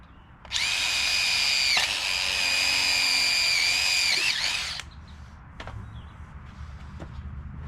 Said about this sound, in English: drill a hole right in the middle.